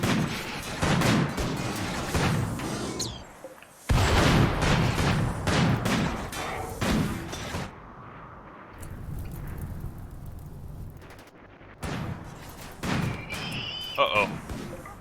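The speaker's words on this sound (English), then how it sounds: "Really hate Inferno cannons." Inferno cannons fire in the video game RimWorld, a dense run of heavy, booming bursts that keeps going with short gaps throughout.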